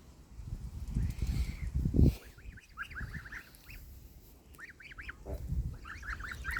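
Geese with their goslings honk in a farmyard, a run of quick, nasal calls coming in short bursts after some low rustling, moderately near but quiet overall.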